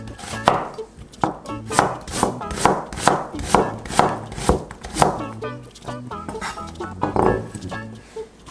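Half an onion being finely chopped with a knife on a cutting board, a brisk, regular run of close, crisp thuds repeating steadily throughout with no talk.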